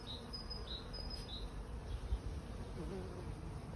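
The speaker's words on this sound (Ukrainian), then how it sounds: "а пчолки працюють, роблять свою справу" Bees buzz around flowering kishmish grapevines on an overcast day, a faint, steady drone with a few brief closer buzzes passing by against soft outdoor background noise.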